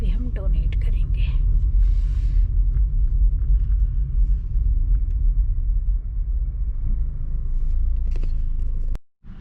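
A car rolls to a stop for parking, its engine and road noise a steady low rumble beneath someone talking, ending with a brief click and a sudden drop as the motor cuts.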